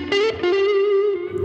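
An electric guitar tone drenched in spring reverb, a sustained distorted note with a few picked attacks, ringing and shimmering alone with a wet, splashy tail.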